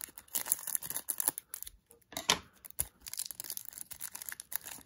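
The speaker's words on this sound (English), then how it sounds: "We will snip that open." Scissors snip open the foil wrapper of a Pokémon Champion's Path booster pack, with close, brief cutting and crinkling bursts and a short pause midway, no talking.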